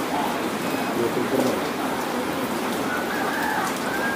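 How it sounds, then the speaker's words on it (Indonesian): Rain falling in the village of Muara Joloi, a continuous loud wash of noise with faint bird calls and indistinct voices mixed underneath. "Hujan cuacanya."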